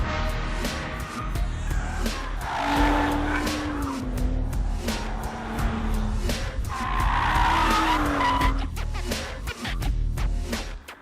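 A BMW M135i is driven hard on a race track, its tires squealing in long wavering screeches over a loud, continuous engine roar heard from up close.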